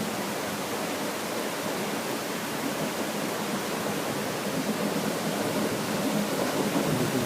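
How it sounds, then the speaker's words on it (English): Broadband roar of a large volume of water rushing down a flooded wash, tumbling and moving large rocks, steady and close with no talk over it. "There are large rocks being moved right now. There's quite a volume of water."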